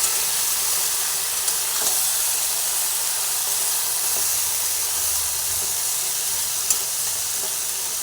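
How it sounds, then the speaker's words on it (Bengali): Seasoned eggplant pieces fry in hot oil in a pan while being stirred, a loud, steady, close sizzle with occasional small pops and no voices. "যে বেগুনগুলো মেখে রেখেছিলাম সেই বেগুনগুলো তেলের মধ্যে দিয়ে দিলাম তেলের মধ্যে দিয়ে একটু ভালোভাবে নাড়াচাড়া করে নিচ্ছি"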